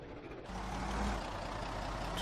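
A vehicle engine in the Project Zomboid video game, a steady loud low rumble and broadband drone that swells after a quieter start and holds throughout.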